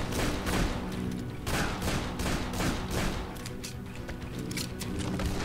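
Dense, continuous gunfire in the zombie game Dead Island: Definitive Edition, rapid overlapping shots forming a loud, sustained barrage with no pauses.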